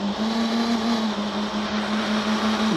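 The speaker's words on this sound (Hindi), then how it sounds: "ये जा रही है अपनी कार" A car in a 3D driving simulator game races along at speed, its engine holding a steady high drone under a constant road rush, with no talk heard.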